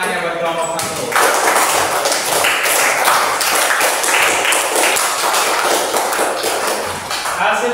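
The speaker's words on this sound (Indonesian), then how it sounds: "Kasih tepuk tangannya buat kelompok 1." A classroom group of participants claps for the top discussion team, a dense wash of broadband applause swelling after the first second and holding steady and loud to the end, with no voices over it.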